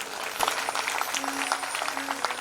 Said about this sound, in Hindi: इसलिए अपने लिए जोरदार ताली बजाओ एक बार।